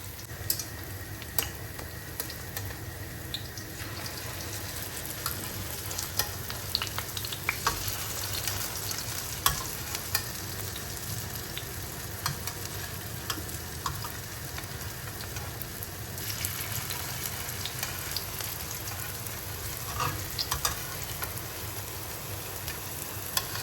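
A moong dal puri fries in a little ghee as a spoon spreads the batter, a continuous close crackling sizzle with scattered scraping taps throughout, and nobody speaking.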